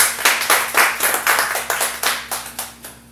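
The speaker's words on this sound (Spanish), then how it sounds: "Dale un aplauso fuerte" Congregation at a Spanish-language church service claps loudly and steadily, a rapid run of sharp, close claps that fills the whole stretch.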